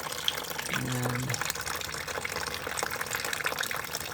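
Old coolant mixed with cleaner draining out of a Mazda MX3 cooling system, a steady watery pour and splash running throughout, with a brief low hum near the start and a spoken word early on.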